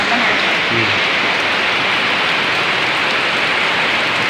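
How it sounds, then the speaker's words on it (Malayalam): Steady, dense rain pouring down, a constant broadband hiss throughout with a brief murmur of background voices near the start. "പുറത്ത് നല്ല മഴയാണ്"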